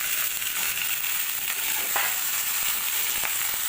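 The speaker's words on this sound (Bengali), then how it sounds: "এর মধ্যে আমি আলু আর পেঁপেটাকে ভেজে নিই।" Pieces of papaya and potato fry together in hot oil, giving a constant bright sizzle with occasional sharper crackles and spatters, close and steady with no talking.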